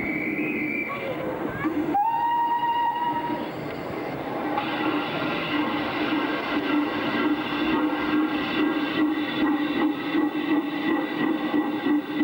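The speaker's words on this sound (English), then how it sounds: "And away down the platform, the guards whistle." A guard's whistle shrills briefly down a station platform at Newcastle in 1987 as an express train departs, followed by a steady rumble and rhythmic clatter of rolling railway carriages while someone narrates over it.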